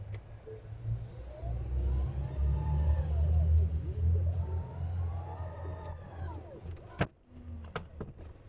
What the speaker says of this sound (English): So Chris, if you try closing the Falcon Wing door